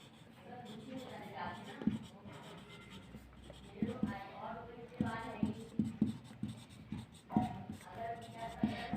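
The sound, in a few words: writing remainders on a board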